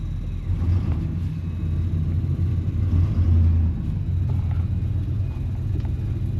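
A Chevy car with a freshly rebuilt engine on its first drive gives a continuous low, rumbling engine and road noise from inside, steady and fairly loud, with no talking.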